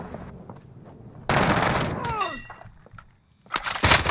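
Video game gunfire in a multiplayer shooter match: a sharp burst of shots breaks out partway through and rings off, then another loud volley follows near the end, with faint background activity between.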